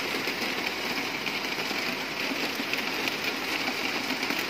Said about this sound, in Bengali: ওই দেখো দূরে বৃষ্টি হচ্ছে আর বৃষ্টির আওয়াজ দেখো